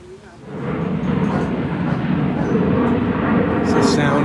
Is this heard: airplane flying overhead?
yes